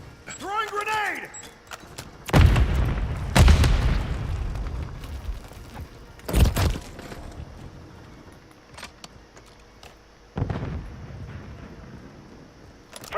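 A grenade blast in a military shooter game, with several heavy booming explosions rumbling at close range amid gunfire-like pops, while a player speaks over the action.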